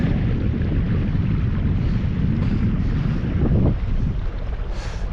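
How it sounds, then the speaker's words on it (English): A sailing yacht motors over flat, calm sea off Scotland in very light wind, giving a steady low engine drone mixed with rushing water and microphone wind buffeting, with no voices. "Shame we're having to motor, but there's very little wind, or certainly not enough to sail"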